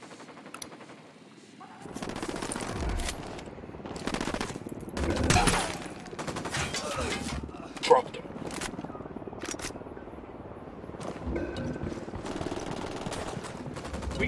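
Gunfire in the video game Ghost Recon Wildlands, sustained rapid shooting and repeated bursts throughout, with one sharp loud crack midway and voices talking in the mix.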